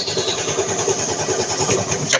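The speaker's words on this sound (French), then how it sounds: "Je démarre, on peut noter qu'il tourne pas très bien." A Yamaha Xmax scooter that has sat unused for several hours starts and runs roughly, its close engine pulsing with an uneven, stumbling idle for about two seconds.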